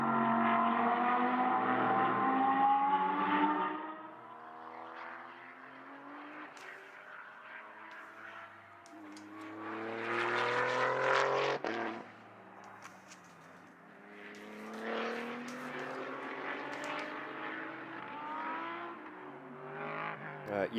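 GT race cars in the Ultimate GT Sprint Cup at the Paul Ricard circuit, engines roaring loudly as they pass and rev through gears, surging and fading in several waves over about twenty seconds.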